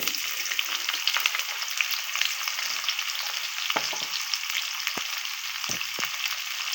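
Young bitter gourd (karela) slices fry in a hot pan with steady, close sizzling and a few sharp stirring clinks and knocks scattered through, no talking.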